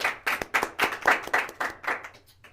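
A church congregation claps in welcome, a run of about eight quick bursts of hand claps at moderate loudness, fading at the end.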